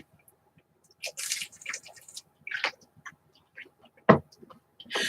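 Water poured during a ritual, heard as faint, scattered splashes and drips with a few brief trickles separated by near silence, close and soft, with no voice.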